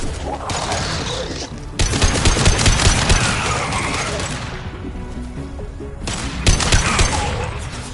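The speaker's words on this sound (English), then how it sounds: "Firing a high-impact shot." Heavy weapon fire in Mass Effect 2 during a defense-tower fight, with dense bursts of loud gunshots and impacts rising sharply around two and six and a half seconds, alone without speech.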